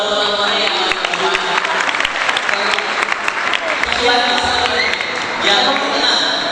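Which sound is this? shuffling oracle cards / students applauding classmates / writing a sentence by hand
students applauding classmates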